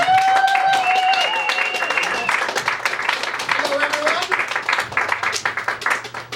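A theatre audience applauds and cheers a magician at a live comedy magic show, loud dense clapping filling the room while a man greets the crowd over it.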